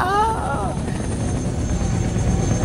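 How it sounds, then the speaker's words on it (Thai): Helicopter rotor noise in a Thai game scene, a steady loud broadband chop that holds through the whole stretch while a brief voice-like tone sounds at the start. "เฮลิคอปเตอร์มา"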